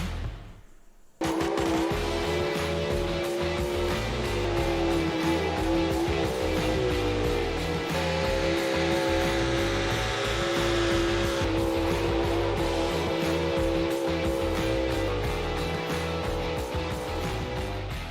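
Big block, high output four-wheel drive pulling trucks roar at a truck and tractor pull in the Appalachian Outlaws Pulling Series, a loud sustained engine blare that kicks in after a brief quiet start and holds steady with a droning tone.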